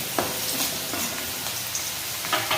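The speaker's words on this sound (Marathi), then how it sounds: "कडीपत्त्याची पानं टाकून घेणार आहे" Curry leaves crackle in hot oil for fasting-day sabudana khichdi, a dense continuous sizzle with small pops and stirring scrapes, close and fairly loud throughout.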